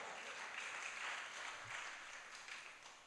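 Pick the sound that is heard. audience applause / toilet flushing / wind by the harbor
audience applause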